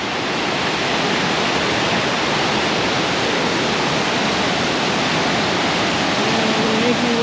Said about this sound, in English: here's our last glimpse of the spillway